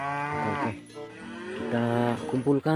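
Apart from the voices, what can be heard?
cow mooing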